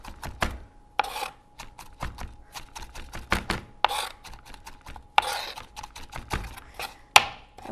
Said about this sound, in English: I'm actually going to chop these just a bit more.